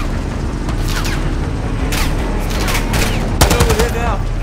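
Gunfire in the video game Call of Duty Modern Warfare II, with loud repeated shots and bursts over a constant roar of battle, and a heavier blast near the end.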